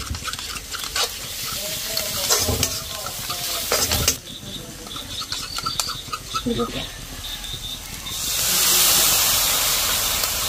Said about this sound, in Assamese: অকণমান পানী দি ধুনীয়াকৈ ইয়াতে মিক্স কৰি লৈছোঁ